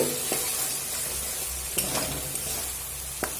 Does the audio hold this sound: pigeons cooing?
no